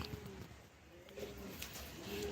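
Caged pigeons, kept in separate cages, coo softly and intermittently against a steady, noisy background.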